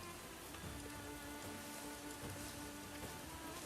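Steady rain falls continuously, a dense even hiss of drops on surfaces with faint patters, heard alone at low volume without any voices.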